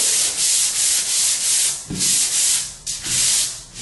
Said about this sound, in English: And so I'm just going to sand this.